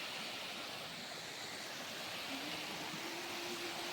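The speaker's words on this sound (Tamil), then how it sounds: "எனக்கு சுத்தமாக தண்ணி சத்தம் தான் அதிகமாக கேட்குது" A village stream or waterfall rushes steadily, a dense, continuous hiss of flowing water that stays fairly loud and even throughout, with a faint tonal hum rising briefly in the background.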